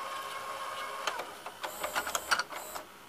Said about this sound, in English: You can hear the heads because my tape's a little bit damaged.